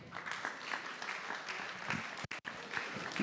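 A room of people applauds after a round-table discussion on literacy in schools, steady mid-level clapping throughout with a brief near-silent break partway.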